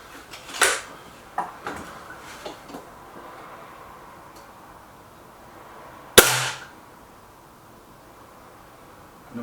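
A .22 air rifle fires pellets at a target. Sharp, fairly loud cracks come at uneven intervals, with a few fainter clicks between them and quiet gaps in between.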